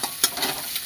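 Egg scrambles in a hot pan for fried rice, a close sizzling hiss broken by a few sharp spatula scrapes within a second.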